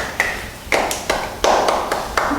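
A school maths class claps for a student, giving a series of sharp, evenly spaced group claps in a patterned rhythm, close and loud, with no talking.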